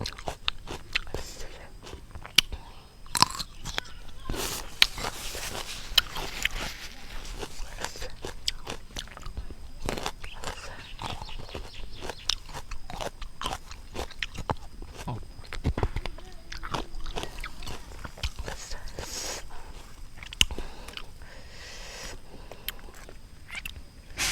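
Crunchy pickled mixed fruit chewed outdoors in a rubber plantation, a long run of close, rapid crisp bites and crunches, with some voices mixed in.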